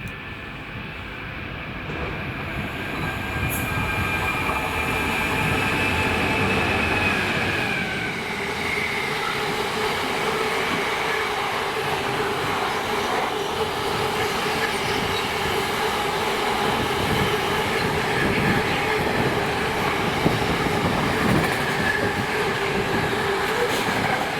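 A train in Scotland rumbles steadily past, with a continuous roar of wheels on rails and occasional metallic squeals, sustained and fairly close throughout.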